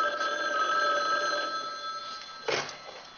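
Telephone bell ringing in a home, a sustained metallic ring that holds steady and then fades, with a brief clatter near the end.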